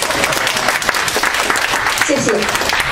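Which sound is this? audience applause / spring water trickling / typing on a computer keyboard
audience applause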